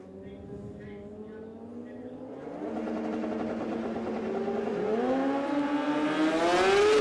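Kawasaki and Suzuki drag racing motorcycles at a drag strip, engines rising from a distant drone into a louder, climbing whine as they launch and accelerate, with an announcer talking over them.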